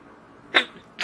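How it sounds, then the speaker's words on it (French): A person sneezing twice in quick succession, close and sharp, with a brief quiet gap between the bursts. "Attends, je vais éternuer"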